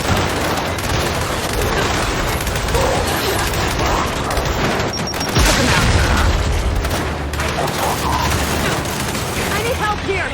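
Turrets firing in the shooter Gears 5. Steady heavy gunfire and booms fill the scene without pause, with a big impact midway, while voices shout over the battle.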